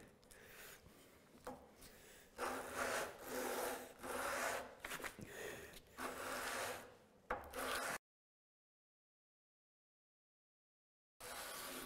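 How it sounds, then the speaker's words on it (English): Disc sander working a wooden inlay piece, a broadband grinding rasp in repeated passes of a few seconds each, close and fairly loud, then a long silence and a brief return of the sanding at the end. "a disc sander can make a very, very, very flat result, but not perfect"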